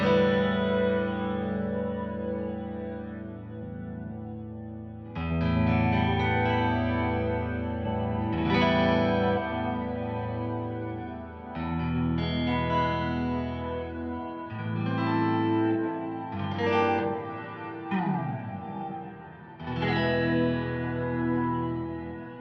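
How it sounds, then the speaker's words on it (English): Harmonic guitar passage processed through a multiband Haas-effect stereo widener plugin, with sustained chorused and echoing notes shifting in phrases, steady and fairly loud with no talking. "we can hear the guitar as it's going through the Haas effect better"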